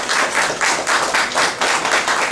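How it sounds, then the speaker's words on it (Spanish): Short, loud clapping from guests at a quinceañera party, bursts of hand claps pulsing in quick waves, close and without talk. "un aplauso para Jennifer, por favor"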